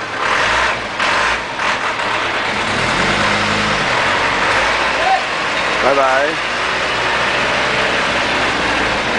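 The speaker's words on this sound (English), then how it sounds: "These are the cars in the narrow alley that are waiting to get by" Cars and a sewage truck idle in a narrow alley of an old neighbourhood, a steady low engine rumble under close talking, with a brief rev rising partway through.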